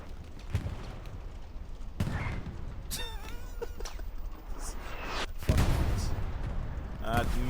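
Booming shots from an anti-tank gun in the World War II shooter Hell Let Loose, during a tournament match, land as a few heavy reports over constant battlefield rumble while a commentator talks throughout.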